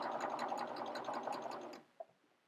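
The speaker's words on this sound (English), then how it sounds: "I'm going to trim off this little tail of thread and just overlap a few stitches" Sewing machine running steadily while overlapping a few stitches at the end of a seam, then stopping, followed by a single faint click in the quiet.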